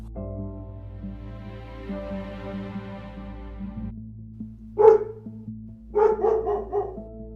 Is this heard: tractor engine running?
no